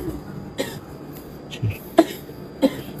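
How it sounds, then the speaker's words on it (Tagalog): A pet coughs in a series of short, sharp bursts, about four separate coughs spread over a few seconds, close by in a quiet air-conditioned room. "Si Mikmik inuubo"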